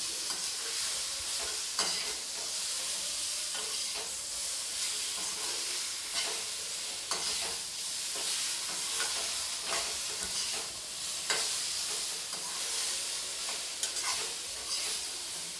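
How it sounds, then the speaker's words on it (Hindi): Spoon stirring spices such as chaat masala and roasted cumin powder into pumpkin sabzi in a hot pan, a steady sizzle and hiss with repeated soft scraping strokes, close and continuous with no speech. "अब मैं इन सबको अच्छी तरीके से मिला दूँगी।"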